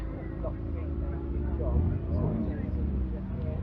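A classic Morris Minor drives out at a British classic car show at Beaulieu National Motor Museum, its low engine rumble running under continuous talking.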